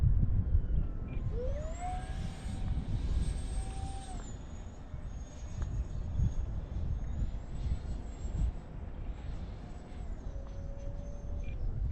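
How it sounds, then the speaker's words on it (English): A mini delta-wing stealth-style drone flying outdoors in wind, its motor whine sweeping up and down in pitch over a steady rush of wind noise, fairly close throughout. "This thing is like a weird stealth drone."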